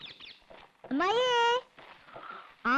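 A cat gives two rising, drawn-out meows, one mid-clip and one at the end, both loud and close, with quiet talk and rustling in the gaps between them.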